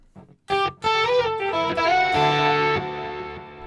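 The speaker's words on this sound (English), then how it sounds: "Get a more vintage chorus sound." Electric guitar notes and chords through the Archetype: Petrucci plugin's vintage chorus, with a warm, shimmering effect, played alone and ringing out with a slight swirl.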